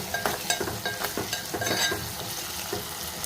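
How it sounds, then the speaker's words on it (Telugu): Onions frying with ginger garlic paste for a broad bean and eggplant chana dal curry, a quiet close sizzle punctuated by rhythmic spoon scrapes against the pan. "అల్లం వెల్లుల్లి పేస్ట్ బాగా వేగిపోయింది"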